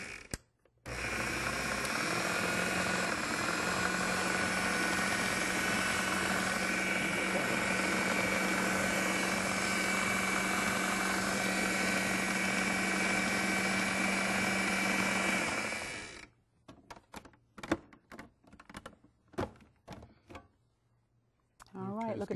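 Loud, steady whirring of a blender running on high, a dense continuous motor drone that stops abruptly, followed by clattering and knocking sounds.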